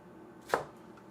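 A single knife cut through fresh ginger on a cutting board, one short crisp chop standing alone against a quiet kitchen background.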